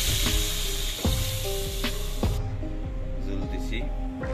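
Water poured into a hot pan of mustard hilsa fish curry sets off a loud, steady sizzle with broadband hiss and a few sharp clatters of utensils, then dies back to a quieter bubbling, with a voice speaking over it.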